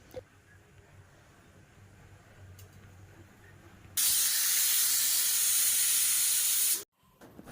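A pressure cooker cooking dal with radish, tomato and curry leaves lets out a loud, steady hissing whistle of steam for about three seconds, cutting off abruptly after quiet kitchen background.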